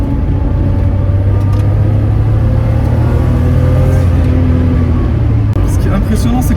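A Porsche 911's flat-six engine, mounted just behind the seat, drones loud and steady from inside the car on a race circuit, shifting pitch as it revs, with heavy road rumble and a voice talking over it.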